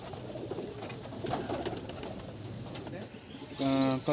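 A small-bodied pigeon coos softly over a busy background hum, followed near the end by a clearer, louder tonal call.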